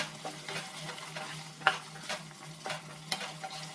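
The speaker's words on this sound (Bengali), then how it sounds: "জল দিয়েও আবার আলুটাকে কষিয়ে নিচ্ছি মশলার সাথে ভালো করে" Potatoes sizzle softly in a pan with spices and a splash of water while a spoon stirs them, giving quiet scrapes and taps over a steady low frying hiss.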